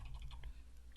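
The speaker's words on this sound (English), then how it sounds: "we can just start typing." Quick computer keyboard typing in a quiet room, a short run of light, close key clicks over a low steady hum.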